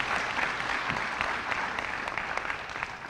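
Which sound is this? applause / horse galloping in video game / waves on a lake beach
applause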